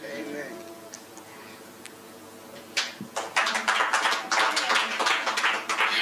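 Audience at a PLHIV leadership summit breaks into applause after a short pause, scattered claps swelling into a dense, sustained round that carries to the end.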